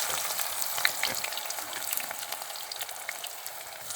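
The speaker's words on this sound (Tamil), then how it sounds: "வெங்காயம் நல்லா வதங்கி வரட்டும்." Sliced onions for chicken dum biryani fry steadily in a pan, a dense, even sizzle with faint crackles and occasional stirring scrapes, close and alone without any talk.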